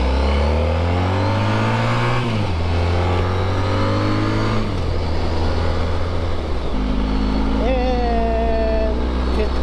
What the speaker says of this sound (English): fifth gear passes really quick. This is what this machine loves.